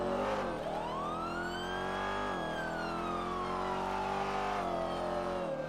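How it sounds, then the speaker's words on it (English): A car engine in a video game drones loudly and steadily, its pitch rising and falling with revs, accompanied by a continuous whining tone, with no talking. "Sorry if the engine's loud."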